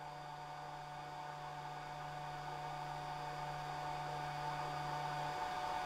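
A Phrozen Sonic Mini 4K resin 3D printer's cooling fan runs at a constant speed, giving a steady, even whir with a low tonal hum throughout, unchanging in loudness and with no talk.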